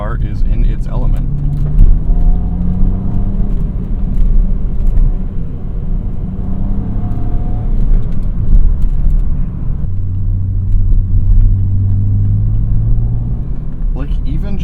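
A BMW M Coupe with the 3.2 liter S52 straight-six pulls along an open road, its engine note droning and sweeping up and down through the gears from inside the cabin, steady and fairly loud, with a person talking over it.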